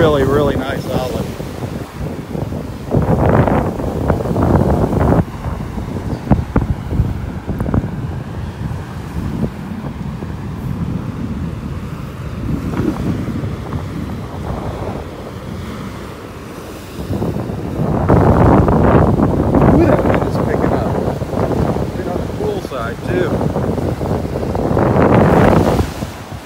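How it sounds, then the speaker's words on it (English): Northeast wind blowing on a beach in North Naples, Florida, roaring into the microphone in strong surging gusts with surf underneath, loud and close, easing in the middle before building again. "wind to the southwest, and it's hitting me directly in the back, so it's coming out of the northeast"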